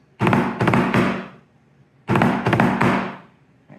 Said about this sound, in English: So one drag, a right-handed drag, sound like this.